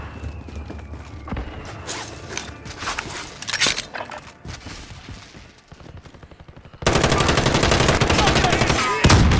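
Bursts of gunfire ring out in Call of Duty: Modern Warfare, scattered single shots early giving way to a loud, sustained automatic burst near the end, with faint radio-style voices in the background.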